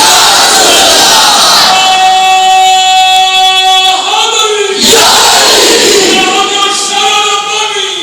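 A large crowd at a religious gathering shouting a unison response to a slogan, loud sustained chanting cries in two surging waves, the second rising after a brief break.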